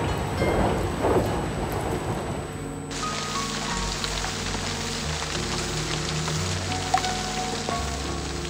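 Steady rain pours down in a thunderstorm, with dense continuous patter on surfaces and low rumbling thunder rolling beneath, fairly loud and constant throughout with no voices.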